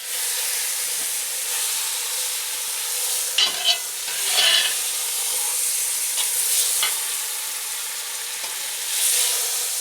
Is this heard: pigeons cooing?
no